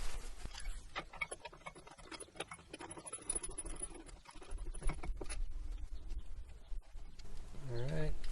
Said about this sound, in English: start working on it with the torque wrench